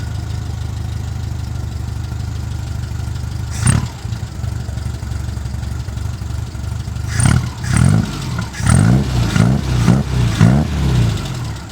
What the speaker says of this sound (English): And the engine just runs really good